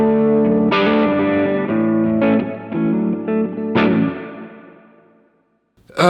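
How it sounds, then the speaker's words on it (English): A Crazy Tube Circuits Sidekick Jr pedal set to plate reverb colors sustained, lightly distorted guitar chords, each strum ringing out in a lush shimmering tail that decays into near silence before a final sharp attack. "Now we're gonna go back to plate. Use that as reverb for the rest of the video."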